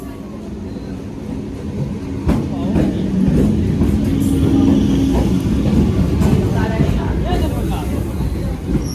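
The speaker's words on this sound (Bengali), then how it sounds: "বারাসাত থেকে আমাদের ট্রেন ছেড়ে দিয়েছে।" A passenger train pulling out of Barasat station, heard from inside a carriage as a steady low rumble and rattle that swells slightly as it gathers speed, with people chatting nearby.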